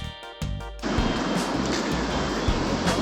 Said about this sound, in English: the waves were covering the entire beach, crossing the road, and spilling into Schwan Lagoon on the other side